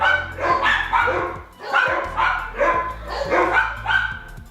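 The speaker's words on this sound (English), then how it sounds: "Gotta love dogs." A dog barks repeatedly indoors at home, a steady series of loud, close yaps and barks with short gaps between them and no clear speech.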